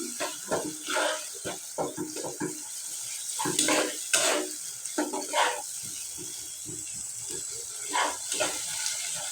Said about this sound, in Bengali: মশলাটা ভালো করে কষাই দিব হয়ে গেল আমার মশলাটা কষানো